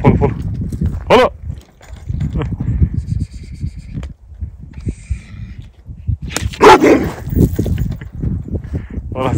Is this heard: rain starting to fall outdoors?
no